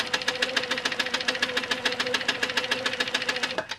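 A sewing machine stitches in the ditch along the seams of a quilt block, running with a fast, even rhythmic thrum of needle strokes at close range, loud and uninterrupted until it slows at the end.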